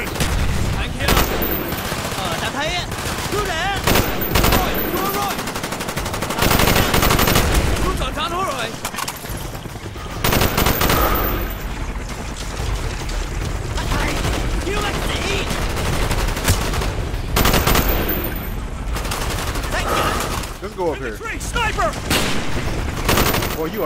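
Call of Duty: Black Ops gunfire, loud bursts of automatic weapons and rapid shots crackling almost nonstop, with shouted voices over the shooting.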